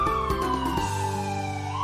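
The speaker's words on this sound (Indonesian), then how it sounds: "kamu akan mendengar suara sirine yang konstan dari tempat kamu berdiri" A stationary ambulance siren wails steadily in a continuous tone, loud and close, with no voices over it.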